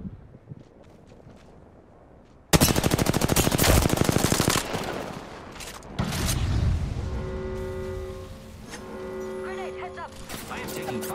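Heavy automatic gunfire in a video game. After a quiet opening, fast rattling bursts erupt close and loud, then continue in further rapid volleys against other game sounds.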